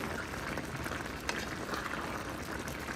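Salmon steak biryani simmering in a pot, stirred slowly, giving a steady, dense bubbling and gentle scraping hiss with one brief clink near the middle, heard up close without talk.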